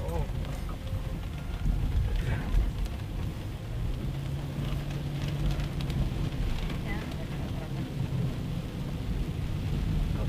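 Heavy rain pours down during a drive on a flooded, potholed road between Jambi and Palembang, a dense, steady roar of rain and road noise with low rumbling throughout.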